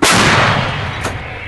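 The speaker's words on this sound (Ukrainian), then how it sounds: "Вот центральный постріл." A single powerful shot from an M109A3GN Paladin self-propelled howitzer booms out close by, followed by a rumbling decay and a brief second crack or echo about a second later.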